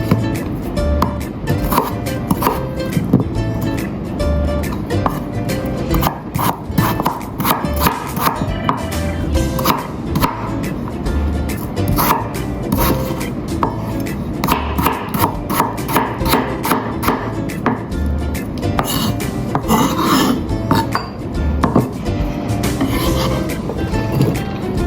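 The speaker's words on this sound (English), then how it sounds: "Peel and cut potatoes into small pieces." Potatoes being peeled and cut into small pieces, dense rapid knife chops and scraping on a board, loud and close, continuing steadily without pause.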